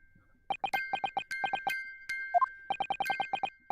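Tinkling music box chimes in The Great Ace Attorney Chronicles video game ring out in quick, regular bursts, pause briefly around a couple of higher tones, then resume the same even, bright pattern with no voices.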